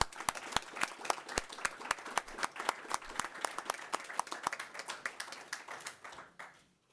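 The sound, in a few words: applause for Georgina Morris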